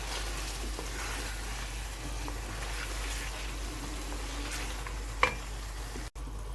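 Green chillies, ginger and coriander being stirred into a mutton karahi, a soft, steady sizzle with faint scraping throughout and one brief clink near the end.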